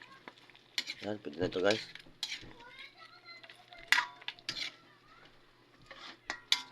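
Food being stirred in a pan, close clinks and scrapes of a utensil against metal over a faint sizzle, with a person talking in between.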